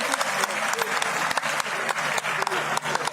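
An audience at a women's honour ceremony applauds steadily, a dense patter of many hands clapping continuously at moderate distance.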